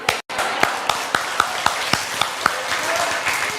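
Applause from a sermon audience at a church gathering, a steady wash of clapping with distinct louder claps standing out at a regular beat, briefly cut by a gap near the start.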